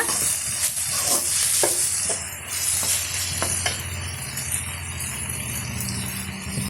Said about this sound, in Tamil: சேர்த்துட்டு இதையுமே வந்து நல்லா மசிஞ்சு வர வரைக்கும் நம்ம வதக்கி விட்டுக்கலாங்க